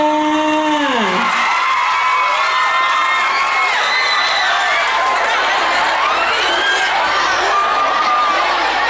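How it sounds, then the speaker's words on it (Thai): An audience at a Harlem Shake performance cheers and whoops loudly, a dense crowd roar with high shouts throughout, following a brief stretch of speech at the very start. "ขอเสียงปรบมือหน่อยค่ะ"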